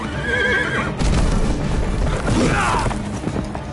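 A horse whinnies loudly amid a busy, clashing Game of Thrones video game battle soundscape with thuds and crashes; no voices.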